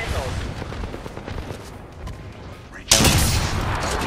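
Apex Legends gunfire aimed at care packages rattles in quick repeated shots, then a louder, sharper burst breaks out near the three-second mark. A voice speaks between the shots.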